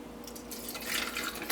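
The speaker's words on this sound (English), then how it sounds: "Now I'm going to pour in some coffee" Strong coffee is poured over ice into a vacuum bottle, a quiet trickle and splash of liquid that grows fuller and brighter as the pour continues, close and without talk.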